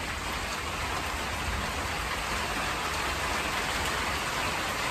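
Sudden mountain rain shower pours outside a workshop, a dense, steady hiss of heavy rain on surfaces that stays loud and even throughout, with no voices.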